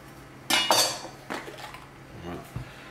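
A knife cuts the top off a bell pepper, with two sharp crunching knocks against the board followed by a few softer taps and clinks.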